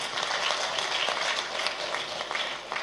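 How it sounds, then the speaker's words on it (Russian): An audience claps in applause, a dense steady patter of hands that holds at an even level for a few seconds, with no speech over it. "Thank you for the applause."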